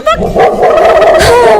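Dog barking and yipping in a playful, comic indoor scene, several quick close yaps overlapping with ongoing excited talk and loud background sound.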